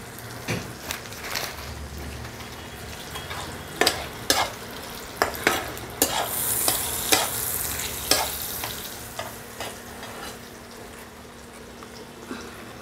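Whole cinnamon, a bay leaf and peppercorns sizzle in hot oil in a pan, with a steady frying hiss and sharp scraping stirs at irregular intervals.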